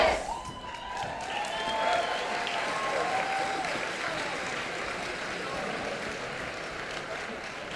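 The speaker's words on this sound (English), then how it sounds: "please join me one last time in reciting our class cheer" A graduating high school class of 2026 cheers and claps together at a commencement ceremony, a broad crowd roar with applause and overlapping voices sustained throughout, a brief tonal voice line near the start.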